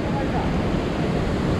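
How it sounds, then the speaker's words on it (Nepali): Bhangge waterfall in Rasuwa, Nepal, gives a dense, even rush of falling water, close and steady, for a short stretch with no break. "अहिलेको रसुवाको एकदमै भाइरल झरना हो यो"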